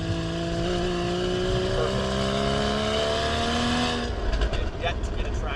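A 2015 Porsche Boxster 981's flat-six engine climbs uphill in a steady, loud drone with rising pitch, then shifts gears near the end as the tone drops and breaks up.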